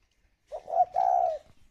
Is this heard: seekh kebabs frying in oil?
no